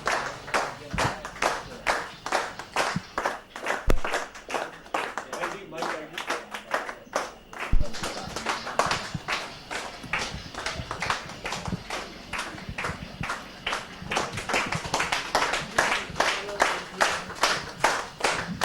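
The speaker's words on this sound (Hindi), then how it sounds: "तालियों का सिलसिला रुक नहीं रहा है" Newsroom staff at a news channel's desk room clap continuously to welcome back a colleague who recovered from Covid: dense, steady, close-by clapping from many hands, with voices talking over it throughout.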